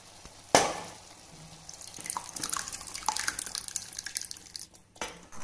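Black lentils (kali dal) tipped into a pan of spiced masala for dal makhani: a sudden wet plop and splash, then a steady soft sizzle with scattered drips and stirring sounds, close and moderately loud.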